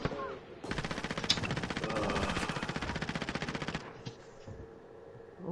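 Automatic gunfire rattles in a Call of Duty match played on PS5, one long rapid burst of loud close shots lasting about three seconds before cutting off to quieter background game noise.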